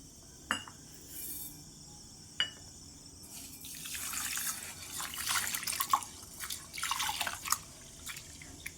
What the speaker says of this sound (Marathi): दोन तीन पाण्याने तांदूळ छान धुवून घ्यायचे